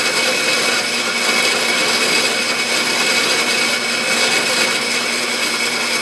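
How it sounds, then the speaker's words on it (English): A machine burnishes the high points of a cast pewter relief with a continuous, even, close grinding whir that holds steady throughout. "I'm just going to go over and just sort of burnish the high points on my relief a little bit."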